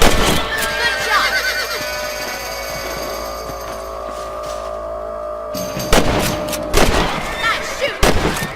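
Rifle shots ring out during a rabbit hunt in the Red Dead Redemption video game, with a couple of sharp loud cracks late on over a bed of game ambience, horse whinnies and hoof sounds.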